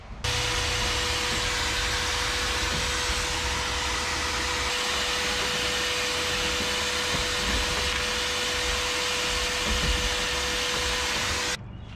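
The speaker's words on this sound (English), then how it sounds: "I'm gonna vacuum this out" A vacuum cleaner runs loudly and continuously up close, cleaning out a 1964 Ford F100 truck, a steady roaring whine that cuts off abruptly near the end.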